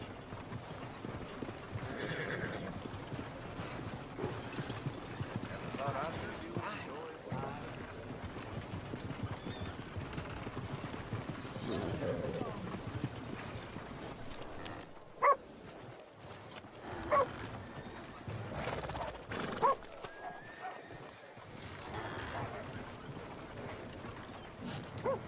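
Horses near the stables in Red Dead Redemption 2, with hooves clip-clopping and occasional whinnies and snorts over a busy town ambience, plus a few dog barks in the mix, steady and mid-distance throughout.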